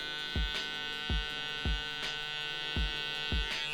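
Electric hair clippers buzz with a steady mains-like hum during a home ball taper haircut, broken by regular soft thumps roughly every half second as the blade passes through the hair, quiet and close.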